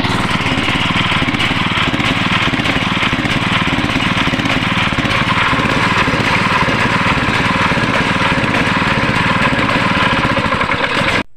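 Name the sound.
gasoline water pump engine surging up and down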